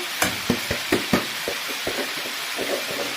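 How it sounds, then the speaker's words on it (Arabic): Rice frying in ghee sizzles steadily in a pan while a spoon stirs it, giving a series of close scraping clinks and soft knocks over the constant crackle. "هقلب الرز، ولما الرز يشرب ميته ويتشمع كده شويه مع السمنه"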